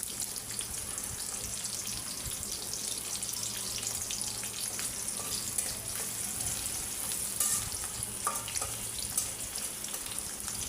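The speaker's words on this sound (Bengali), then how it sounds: "রসুন আর পেঁয়াজ একটু ভালো করে একটু লাল লাল করে নিব।" Garlic and onion fry until reddish-brown for a mixed vegetable dish, a faint, even hiss with a few scattered light clicks.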